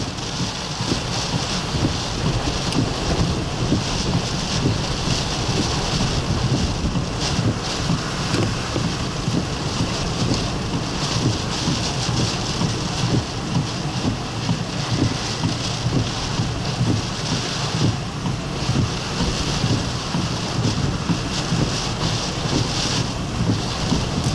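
Category 1 Hurricane Nicholas lashing Matagorda, Texas with wind and rain: a constant loud roaring rush that buffets the microphone for the whole stretch, without any talking.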